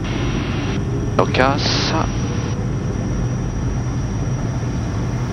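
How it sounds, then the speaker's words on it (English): Personal jet taking off at full power, a loud steady roaring engine rumble filling the cabin throughout, with a pilot's brief speech and a short radio squelch over it. "We are clear for takeoff, full power."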